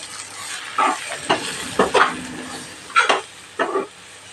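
Chili powder sizzles in hot oil while sautéing for a brinjal (eggplant) curry, a soft steady frying hiss broken by several short bursts of stirring and scraping, close and fairly quiet.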